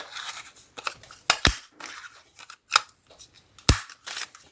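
A small paper punch cuts little circles from scrap paper, giving several sharp, close clicks and snaps at irregular intervals with soft paper rustling between them.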